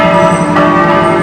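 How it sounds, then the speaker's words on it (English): A church bell tower rings out loudly on All Saints Day in France, rich sustained bell tones with a fresh strike just past the middle, heard alone and up close. "this bell tower has already been ringing for about a minute"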